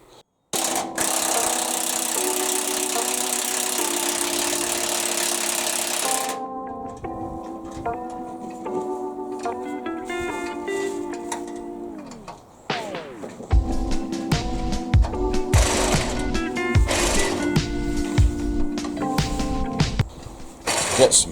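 An angle grinder cutting through stubborn bolts holding a homemade bumper on a rat rod, a loud sustained whine that shifts pitch as the disc bites, with clanks and rattles in between.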